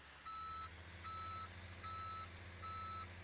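Truck reversing beeper in Farming Simulator 2017, four evenly spaced electronic beeps over a steady low engine drone, faint and with no talking.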